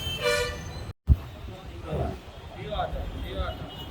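Car horns toot on a busy street in Bangalore, India: a bright honk near the start, then traffic rumble with a few fainter horns further off, under people talking.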